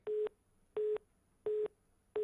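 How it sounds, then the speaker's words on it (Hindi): Telephone busy tone after a dropped call during a Haryana TV news phone-in, four evenly spaced steady beeps with short silences between them, clear and alone with no talking. "लगता है फोन कट गया"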